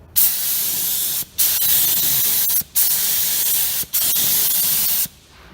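Spray paint hisses in four long, loud, steady bursts with brief gaps between them, laying down a coat of paint close by, with no talk.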